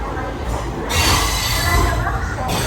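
Ananthapuri Express pulling into a station, a steady broad rumble of rolling wheels and carriages that swells louder midway, with some faint voices mixed into the background.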